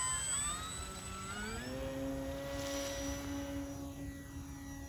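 An FMS Supercub 1700mm RC model plane on floats takes off with half flaps, its electric motor holding a steady whine that climbs in pitch as it speeds up, then stays level and gradually fades slightly.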